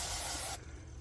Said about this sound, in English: Just spray it real good, get all that gunk off.